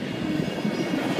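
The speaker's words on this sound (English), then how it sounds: "Look at this train!" A train rolls past in a dense, steady rumble of wheels and rail noise, loud and close, with no talk over it.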